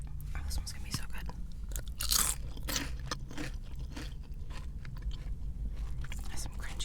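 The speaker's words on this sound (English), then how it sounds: "That's some crunchy chicken." Crunchy Raising Cane's fried chicken is bitten and chewed close to the microphone, with repeated crisp crunches and wet chewing over a low steady hum.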